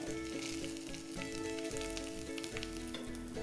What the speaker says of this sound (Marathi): आता हा ओला नारळाचा चव आपल्याला चांगला भाजून घ्यायचा आहे